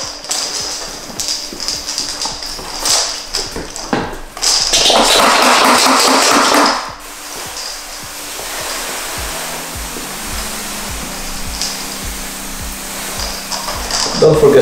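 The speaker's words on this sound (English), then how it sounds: "you want to spray water all around the car" Steady hissing spray of water over a car and the floor runs throughout, swelling louder for a couple of seconds midway, with a faint mechanical hum underneath.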